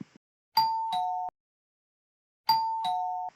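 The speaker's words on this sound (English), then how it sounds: "That was the doorbell, wasn't it?" A two-tone ding-dong doorbell rings twice in a quiet room, each chime clear and sustained, with a short gap between the two rings.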